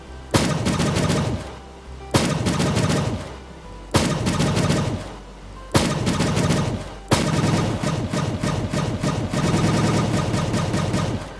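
Borderlands 3 Super Ball exotic weapon firing in a video game, its rapid shots edited to match a tune: five loud bursts of rhythmic gunfire, each a dense rattling volley that swells and then tails off, with the tune running underneath.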